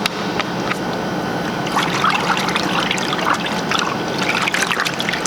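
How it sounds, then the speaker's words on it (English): Rinseless wash solution pours into a bucket with a continuous trickling, splashing stream that stays close and fairly loud throughout. "it's time to put some solution in our bucket here."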